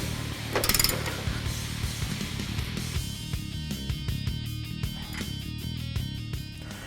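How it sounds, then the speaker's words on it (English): A socket wrench works on the lower control arm bolts of a 2009-2016 Ford F-150 during a Skyjacker leveling kit install, giving a quick run of close metallic ratchet clicks over a low mechanical background hum. "To tighten up the lower control arm bolts, you're going to need a 21mm socket and a 27."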